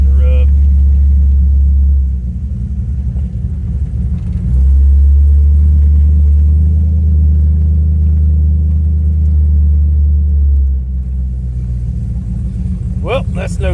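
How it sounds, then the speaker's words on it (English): A car driving with its left wheel rubbing: a loud, constant low engine and road rumble that shifts in pitch around the middle, with a faint grinding texture and a short scrape near the end. "Definitely that left wheel starting to rub."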